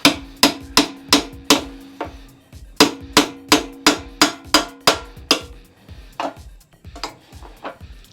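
A metal bar is struck to loosen a ring: sharp, close metallic clangs land in quick even runs of about a dozen blows, pause, resume in another run, then trail off into lighter, irregular knocks.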